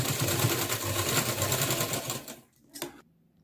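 A sewing machine runs steadily, stitching the shoulder seam of a net party-wear frock at a half-inch allowance, then stops, with one short burst near the end before quiet.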